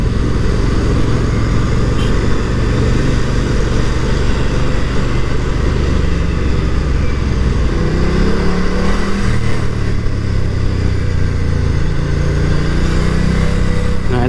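Moto Guzzi V100 Mandello Aviazione Navale engine in sport mode, a close, loud, continuous drone that swells with throttle blips and revving, with no talking over it.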